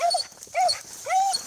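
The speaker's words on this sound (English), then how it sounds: "Our dogs aren't aggressive, but she does bark." A dog gives three short, high-pitched whining yips in a quick series, close by and fairly loud.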